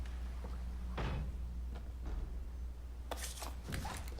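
A locked door kicked open in Resident Evil 4 Remake, with several heavy wooden thuds spread across the clip and a final louder crashing burst as it gives way, over a low ambient hum.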